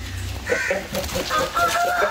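A rooster crows nearby, a drawn-out cock-a-doodle-doo, with some low background noise at the start.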